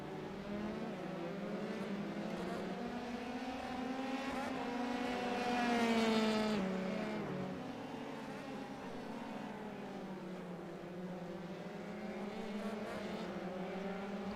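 Formula 3 race cars at Donington Park pass the start-finish straight in a tight pack, engines whining with shifting pitch that swells as they go by, then recedes, under race commentary.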